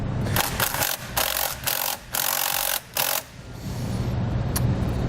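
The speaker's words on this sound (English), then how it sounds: "We're going to loosen the nut." A ratchet fitted with a 10mm socket loosens a nut while a trailer wiring harness is installed on a 2018 Volkswagen, producing rapid clicking bursts broken by short pauses, then a steadier mechanical rasp, close and loud.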